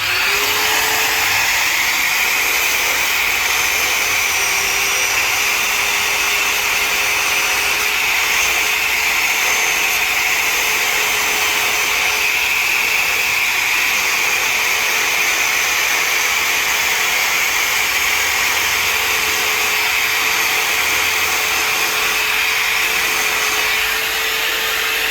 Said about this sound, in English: I'm gonna grind that spot off now